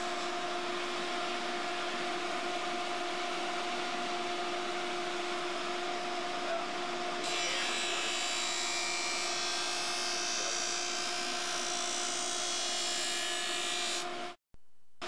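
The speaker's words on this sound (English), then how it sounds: "Then grind a faint line on the blade to see if it's centered all the way" A grinding wheel sharpens an ice hockey skate blade with a steady, close whirring hum and hiss; the grinding grows brighter and harsher midway, then cuts off abruptly near the end.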